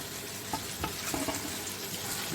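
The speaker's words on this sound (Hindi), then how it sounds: "देखिए पानी उबल रहा है" Water boils in a pot on a kitchen stove burner, giving a steady, close bubbling hiss with faint irregular pops throughout.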